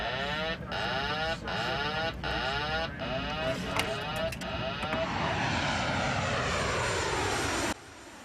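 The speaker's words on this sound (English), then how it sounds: "He's taxiing on the runway." A fixed-wing propeller aircraft taxiing on a runway gives a steady, loud engine drone with a pulsing, shifting whine that drops away sharply near the end.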